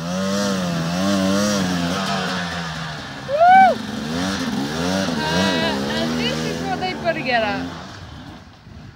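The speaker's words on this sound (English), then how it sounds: "if you can hear the engines in the background" Enduro dirt bike engines rev and climb in the background of a muddy trail ride, rising and falling in pitch behind a rider who talks over them up close.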